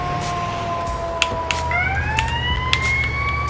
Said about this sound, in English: I did switch the siren back to the last one